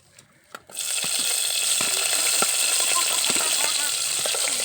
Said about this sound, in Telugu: ఇప్పుడు పచ్చిమిరపకాయలు వేద్దాం.